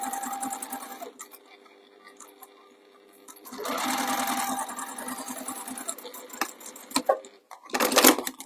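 Sewing machine fitted with a quarter-inch presser foot stitching a quarter-inch seam in short bursts of close, rapid whirring, with pauses, clicks and light handling noise between runs.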